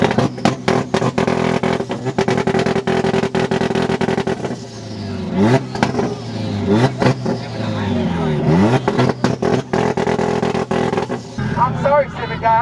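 A big-turbo Supra or similar tuned car revving hard at a car show, with repeated loud rises and falls in pitch and sharp bursts, over crowd chatter and people talking nearby.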